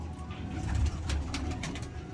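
Pigeons coo in a breeding loft, low rolling calls overlapping close by in a steady murmur with no voices.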